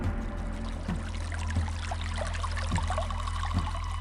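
Water flowing in a mountain stream deep in the rainforest of Diaolo Mountain, Hainan, heard as a continuous close trickle and pour with small splashes recurring about once a second over a steady low hum.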